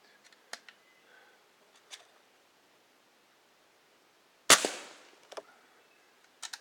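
A single loud metallic smack of an air rifle pellet from a Crosman 2240 carbine hitting a soda can, ringing briefly, with a few small clicks and ticks scattered before and after.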